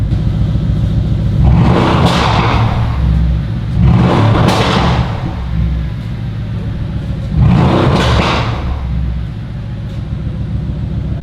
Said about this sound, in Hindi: So this is GTS and literally पटाखे मारती है ये।